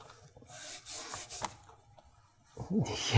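A hand rubs over the rough fiberglass moulding of a Ferrari Dino 246 GT glove box, giving soft, dry scraping strokes up close that swell and fade over a few seconds and end in a louder rasping scuff.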